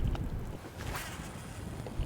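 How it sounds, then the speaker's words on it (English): Steady wind buffets the microphone on the Mississippi River during a fishing outing, a low rumbling gusty roar with faint water and boat sounds, no talking. "Now it's a little windy today"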